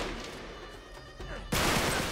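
A shotgun blasts in the video game Uncharted 3, a heavy, loud burst cutting through ongoing game noise partway through.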